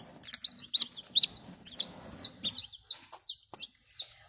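Newly hatched baby chick cheeping in a quiet room, a steady series of short, high, sharp peeps repeating roughly every half second, close and clear.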